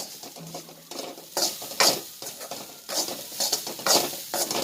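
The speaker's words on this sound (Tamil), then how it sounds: "தேங்காய் கருகக்கூடாது, கரெக்டாக பார்த்து பக்குவமாக வறுத்துக்கணும்." Dry rustling scrapes of grated coconut being roasted and stirred in a pan, in repeated bursts with short pauses, close and fairly loud.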